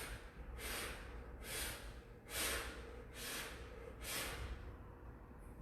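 Five quick, forceful exhales during a stretching class breathing exercise, evenly spaced about a second apart as sharp breathy bursts over a low steady room hum.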